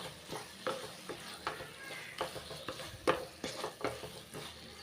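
A spoon stirs a carrot sweet mixture in a pan, giving a steady run of scraping strokes with a soft sizzle underneath, close and fairly quiet with no voices.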